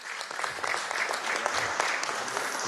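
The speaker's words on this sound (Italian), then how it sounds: "applauso di rito" An audience in the Bassano del Grappa council chamber gives steady applause, a dense sustained clapping at moderate volume lasting the whole moment.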